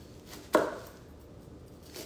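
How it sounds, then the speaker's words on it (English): A single knife cut through an onion, using the thumb as a guide and slicing all the way down, one short sharp chop near the start followed by quiet kitchen room tone. "I use it as my guide to slice my onions"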